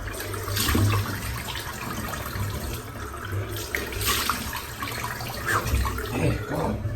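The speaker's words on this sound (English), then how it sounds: "Just rinse my face off now." Water splashes at a sink as a face is rinsed by hand, coming in uneven bursts of running and splashing with short pauses, close by and moderately loud.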